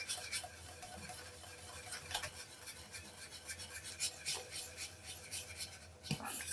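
Whisk scraping and rasping steadily inside a pot of polenta, quiet and close, with a continuous scratchy rhythm and no talking.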